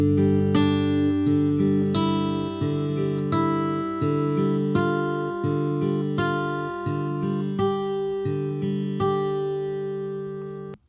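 Acoustic guitar fingerpicks a line from a song, plucking the 4th, 3rd and 1st strings together in ringing chunks, a steady sequence of close, clear notes with no talk.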